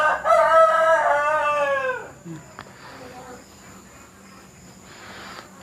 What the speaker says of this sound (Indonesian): Ayam berkokok.